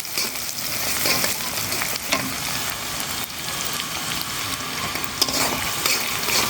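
Chopped onion crackling in very hot oil during rooftop cooking for an egg and potato curry, a constant close sizzle with periodic scrapes and knocks of a stirring spoon, nobody talking.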